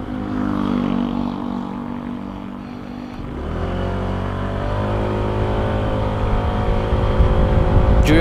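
A Honda Airblade 160 scooter with a 160cc engine pulls away hard, its engine note dipping briefly and then climbing steadily in pitch as it accelerates, loud and close throughout.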